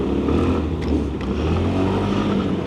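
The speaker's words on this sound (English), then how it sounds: "Engine is running smoothly" A brand-new scooter engine with about 1,000 km on it runs steadily at a constant loud drone, continuous and close throughout, with no voices.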